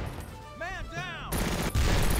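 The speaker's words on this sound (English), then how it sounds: "We're under heavy fire." Gunfire in the wargame Battle Academy during a battle in woods, a soldier's voiced shout first, then a loud, dense burst of rapid shots and crackling fire that grows heavier toward the end.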